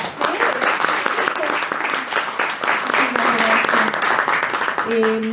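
An audience at a poetry recital applauds in a continuous, fairly loud patter of many hands that carries on throughout, with voices and a brief tonal sound near the end.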